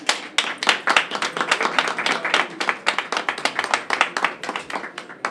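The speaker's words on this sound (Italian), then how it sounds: "Applauso." Audience applause at the inauguration of a protected room for vulnerable victims, a close, moderately sized group clapping in quick, distinct hand claps that hold steady for about five seconds.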